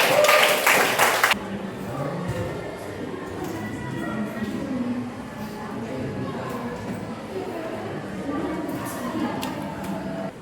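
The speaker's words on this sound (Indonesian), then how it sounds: "Kita tepuk tangan dulu untuk kita" A short, loud burst of hand clapping from a classroom of students during a math lesson lasts just over a second. It then gives way to quieter room noise with shuffling and faint voices.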